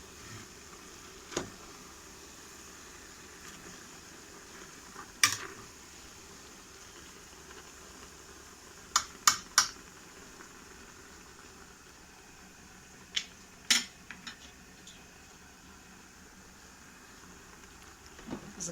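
Rassolnik soup of fresh cucumbers and vegetables bubbling quietly in a pot, a soft steady simmer broken by a few sharp clinks and knocks of stirring.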